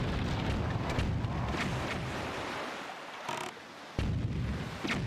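Cannon fire in Zelda: Wind Waker HD, a series of loud booming blasts over a constant rumbling wash like surf, with a brief dip to near quiet before the heavy roar returns.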